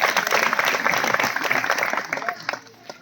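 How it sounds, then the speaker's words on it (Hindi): An audience at a village meeting in Nawada claps together, a dense burst of applause close by that slowly thins out and fades over a few seconds. "उनके लिए भी एक बार ताली बजा।"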